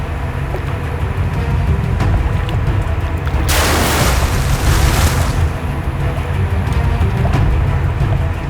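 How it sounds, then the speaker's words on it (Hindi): A burst of loud, rapid, crackling bangs lasting a couple of seconds, sharp and close over a steady rumbling background. "ये लोग गोलियां क्यों चला रहे हैं?"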